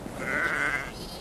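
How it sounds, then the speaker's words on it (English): A primitive breed sheep gives one clear bleat, about a second long, while a sheepdog herds the flock. "What Jess is doing now is she's rounding up the sheep to bring to me"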